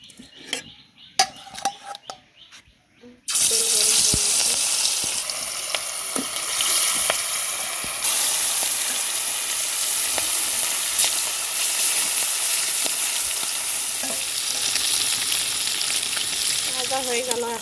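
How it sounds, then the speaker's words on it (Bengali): Fish fries in hot oil in a wok, a loud, steady sizzle that takes over abruptly after a few seconds of quieter kitchen noise and continues without break, with occasional clinks of a utensil. "মাছ ভেজে নেব।"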